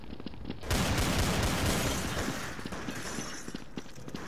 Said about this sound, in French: on va prendre la mitrailleuse pour changer